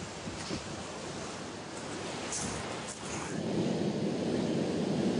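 Wind and surf on a Basque beach at high tide, a steady broadband wash of breaking waves with gusts buffeting the microphone, building slightly louder toward the end with no voices.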